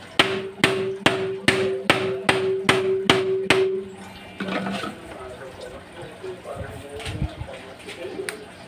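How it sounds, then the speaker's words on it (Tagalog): About eight sharp metallic taps on a rifle scope, testing its shockproofing, land in a steady, even rhythm, loud and close, followed by quieter clicks and handling noise. "try natin pukpukin"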